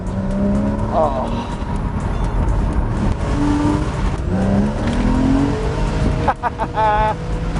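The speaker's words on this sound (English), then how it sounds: "What a lovely sounding car" A 2013 Porsche Boxster engine in Sport Plus mode revs hard in second gear and accelerates, its pitch rising through the gears, loud and close, with a brief tire-like squeal near the end.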